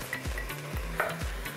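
Gulai paste for a large-pot beef curry sizzles in the pot, giving a steady frying hiss with three rhythmic low thumps and scrapes of stirring.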